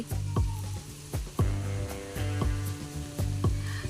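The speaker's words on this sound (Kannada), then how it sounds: "ಹಾಗೆ ಫಿಶ್ ಫ್ರೈ ಮಾಡುವ ಅಂತ ಬಂಗಡ ಫಿಶ್ ಫ್ರೈ" Bangda (mackerel) fish fries in a pan, giving a steady close sizzle with sharp crackles and pops that recur every second or so under a low background hum.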